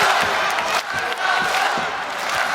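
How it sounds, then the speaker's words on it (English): A dense arena crowd at the Dynamite!! 2009 kickboxing event chants for Masato during a third-round fight against Andy Souwer, a loud sustained roar with rhythmic surges throughout. "Listen to this crowd."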